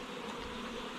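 Honeybees swarm out of a disturbed hive, a steady, soft, close buzzing drone that fills the brief moment with no voices.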